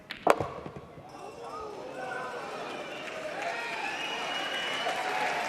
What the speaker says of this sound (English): The crowd appreciate that one.